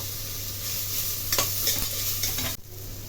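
Garlic, vegetables and capsicum fry in a pan for street-style pav bhaji while being stirred. A steady close sizzle runs throughout, broken by scraping stir strokes, with no talking.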